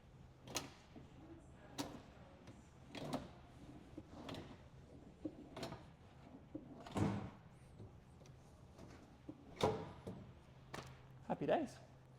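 Drawers of a Pisa chest of drawers slid shut several times in a quiet studio, each a soft bump or thud spaced a second or so apart, close by with low hum between.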